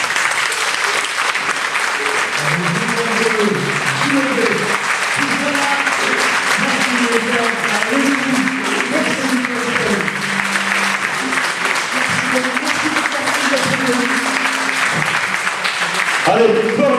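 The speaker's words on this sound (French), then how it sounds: "Allez, plus fort les applaudissements" Loud, continuous applause from a concert audience, dense clapping that holds steady for a long stretch while a voice speaks over it intermittently.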